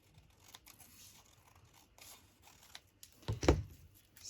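Paper tags are snipped by hand with scissors, quiet scattered cuts ending in a louder, closer run of crisp snips.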